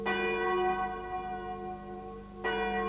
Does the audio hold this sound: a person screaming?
no